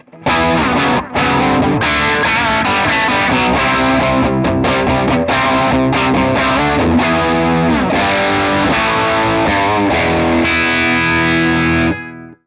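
Distorted electric guitar through a SonicTone Clarksdale 60W tube amp with effects plays a continuous, layered riff with shimmering effects, loud and sustained for several seconds before stopping abruptly.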